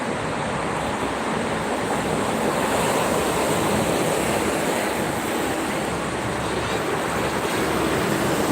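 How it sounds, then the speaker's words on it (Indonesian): Strong wind blowing on the Jakarta–Cikampek toll road near kilometre 57, a loud steady rushing roar with buffeting against the microphone, constant throughout and without talk. "Anginnya kencang."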